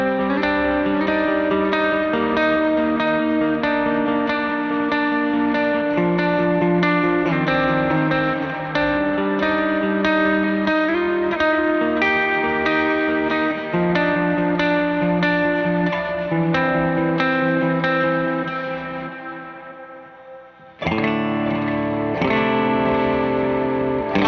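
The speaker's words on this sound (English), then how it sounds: "Let's turn on a reverb and mess with that for a sec." A guitar played through the reverb of a Meris Mercury X pedal, with sustained chords washing into long, lush tails. A loud, continuous wet wash that briefly thins before the playing swells back in.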